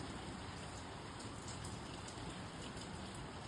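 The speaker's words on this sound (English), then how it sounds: "it is raining right now at night." Light rain falls steadily at night in California, a soft even hiss of drops without thunder, continuous and fairly quiet throughout.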